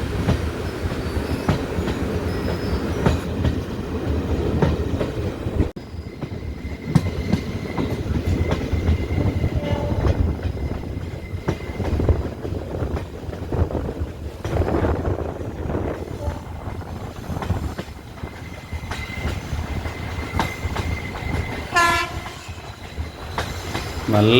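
A passenger train on the Tenkasi–Kollam line climbs a steep curving hill grade in light drizzle, with a steady loud rumble, rhythmic clickety-clack of the wheels, squealing wheels and a horn blast near the end.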